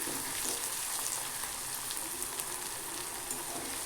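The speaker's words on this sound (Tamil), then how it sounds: "எண்ணெய் சேர்த்து இந்த மாதிரி எண்ணெயிலே நல்லா வதங்குற மாதிரி பார்த்துக்கலாம்" Onions sautéing in a generous amount of hot oil for an egg gravy, a steady close sizzle and crackle that runs unbroken with no voices.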